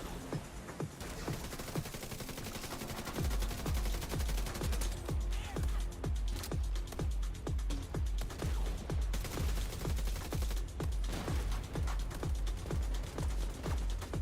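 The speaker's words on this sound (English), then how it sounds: "Why is it my artillery turret shooting?" Rapid, sustained automatic fire from an artillery turret in The Division 2, loud and close, a dense stream of repeated shots with deep thumps running almost without pause.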